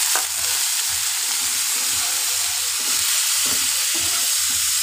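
Spice masala sautéing in a pan with browned onions and a little water, a steady broadband sizzle beneath repeated rhythmic scraping strokes of a spatula stirring, close and continuous with no voices.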